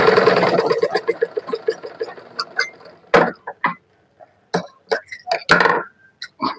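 A sewing machine stitches half-inch tucks on a four-tuck double-belt blouse. The stitching runs as a rapid rhythmic chatter that slows and stops, followed by scattered clicks and handling noises up close.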